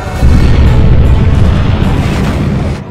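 A massive, sustained roaring blast as a nuclear missile launches in a dubbed monster-shark action film, loud rumbling boom filling nearly three seconds and fading slightly at the end, with no speech.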